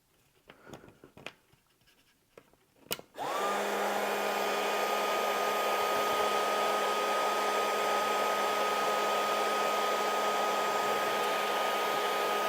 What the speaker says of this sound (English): And then have yourself a good heat gun. Place her about like that.